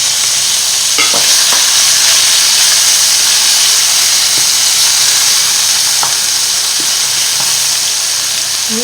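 Chopped onion sizzles and fries steadily in a pan on lowered heat, after veal paupiettes have been taken out; there is a loud, constant hiss with a few light stirring knocks.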